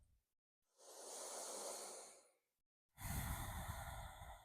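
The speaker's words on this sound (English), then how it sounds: "One more breath here." Slow, deep inhale followed by a long, audible exhale, close and clear, breathed during a shoulder and neck stretch in a post-workout cool-down, with no talking.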